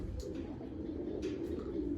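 Pigeons coo softly and repeatedly at close range, low rolling calls over a steady background murmur, with a few faint higher chirps mixed in.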